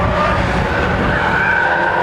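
Mazda MX-5 race cars corner hard and run wide out of Park Corner at Cadwell Park, engines droning loud and steady with tyre scrub and squeal throughout, no voices heard.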